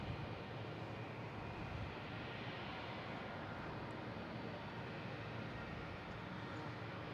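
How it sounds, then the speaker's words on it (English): Airplane passing overhead at Boston Logan International Airport, a broad, steady engine roar filling the whole stretch with no break or talking. "Another plane flying over us."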